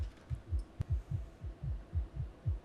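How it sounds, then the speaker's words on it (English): A heartbeat sound effect from a vampire TV show: quick, regular, muffled low thumps, about eight in under three seconds, steady and close with no speech over them. "Why's your heart beating so fast?"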